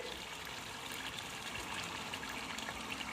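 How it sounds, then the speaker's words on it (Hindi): About half a cup of water poured into mutton being roasted in a pan for dum gosht, giving a steady, close gushing splash with a bubbling hiss for a few seconds and no talking. "अब मैं इसके अंदर थोड़ा सा पानी ऐड करूँगी, तकरीबन हाफ कप के करीब"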